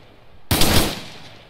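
Sudden machine gun burst aimed at a wall in ARMA 3, a loud close rattle of rapid shots that kicks in abruptly and then tails off into a fading echo.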